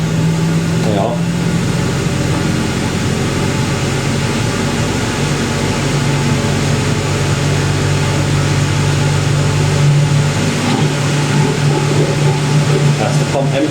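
A 1980s Ariston by Colston Electronic 3000 spin dryer runs steadily through its rinse and spin, giving a loud continuous mechanical hum and drone with a faint low whine and no break.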